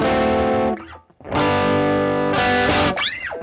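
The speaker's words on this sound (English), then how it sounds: "That is an effect we call distortion." Heavily distorted electric guitar chords ring out loud and buzzy, with a short gap between sustained strums.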